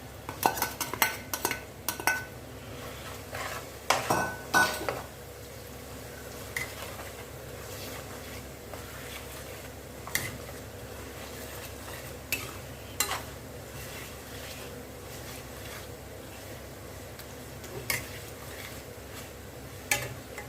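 Mint leaves and chana dal stirred in a pan, a low continuous frying hiss with repeated metal spatula clinks and scrapes, busiest at the start and then scattered, close and quiet with no speech.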